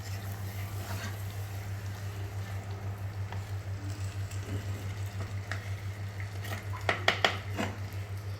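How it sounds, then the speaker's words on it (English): A lid goes onto a clay pot of marinated chicken, a quick cluster of clinking, clattering knocks near the end after quiet kitchen rustling over a low steady hum. "We'll put the lid over it."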